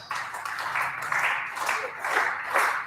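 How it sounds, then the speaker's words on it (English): An audience at an in-person education kickoff event claps in a short burst of applause. The clapping is moderately loud and comes in swelling waves, with no speech over it. "Please give him a huge round of applause."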